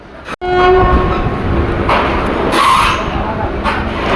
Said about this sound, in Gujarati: આપણી ટ્રેને ડિપાર્ચર લઈ લીધું છે રાજકોટ જંકશન રેલવે સ્ટેશનથી